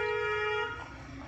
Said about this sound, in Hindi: हॉर्न बजाओ